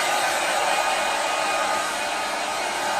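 A hair dryer blows steadily after a fade haircut, a loud, close, unbroken whooshing roar with no talk over it.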